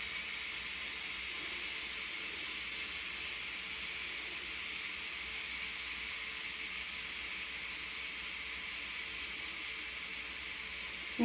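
A pressure cooker of homemade beef stew vents steam in a kitchen: a loud, continuous, even hiss that holds steady without a break from start to finish.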